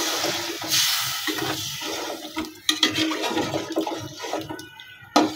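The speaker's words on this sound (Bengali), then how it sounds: "এক মগ পানি দিয়ে দিলাম।" A mug of water poured into a pot of village-style spicy chicken bhuna, a rushing gush and splash at first, then bubbling, hissing and scraping stirs close by.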